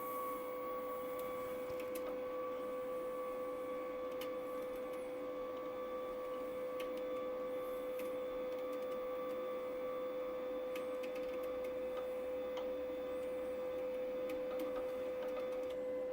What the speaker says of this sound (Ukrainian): Подаємо проволоку в рукав.